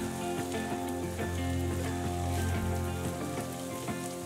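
Carrot, beans and potato fry in a pan with a steady, dense crackling sizzle that stays loud and even throughout, with no voices.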